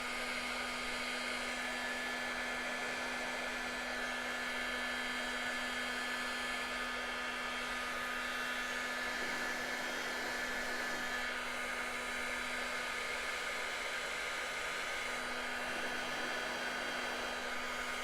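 A heat gun set to about 300 degrees Celsius blows hot air onto a hand-wrist orthosis, giving a steady, even airflow roar with a faint tonal hum that holds unchanged for the whole stretch, with no talk.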